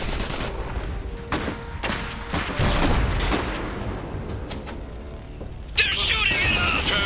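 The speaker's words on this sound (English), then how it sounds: "They're shooting at us!" Enemy units fire on the player's squad in Iron Harvest, sharp gunshot cracks and rattling bursts spread across a busy battle mix, with a clanking mechanical sound near the end.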